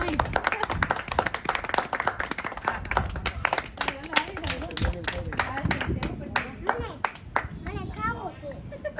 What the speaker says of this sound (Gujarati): પાડો તાળીઓ તો પાડો હમાય